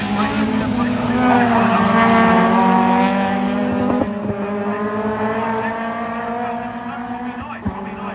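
A time attack race car laps a circuit, its engine screaming through rising gear pulls before a sharp lift and change, loud and close with a trackside commentator talking over it.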